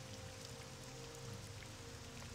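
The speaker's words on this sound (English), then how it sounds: "Why is it always raining when I play?" Steady, even rain hiss from the Morrowind video game weather, a continuous wash of falling rain with a low ambient hum beneath, constant in loudness throughout with no voices.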